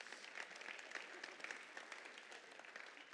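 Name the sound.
audience applause at awards show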